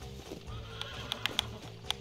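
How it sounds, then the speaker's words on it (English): An angry horse neighs in Red Dead Redemption, a loud close whinny with sharp snorts and stamping hooves, heard alone without talk. "This horse right now wants to just kick you in the head"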